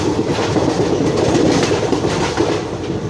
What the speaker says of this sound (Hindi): किनारा एक्सप्रेस को क्रॉस किया हम लोग